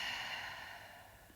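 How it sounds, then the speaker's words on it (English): One long, soft exhale through the mouth during a yoga breathing exercise, a close, breathy hiss that slowly fades. "Big exhale out through your mouth."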